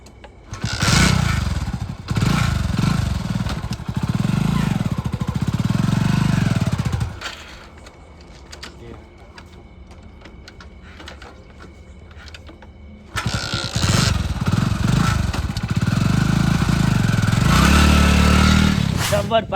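A motorcycle ridden on a road gives a loud, rough engine drone that drops away for several seconds midway and then returns just as strongly, with voices mixed in.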